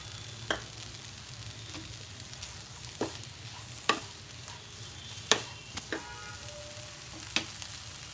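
Chopped tomatoes fry with fenugreek leaves in a pan, a low continuous sizzle broken by sparse sharp spatula scrapes and taps every second or two, fairly quiet and close, no one speaking.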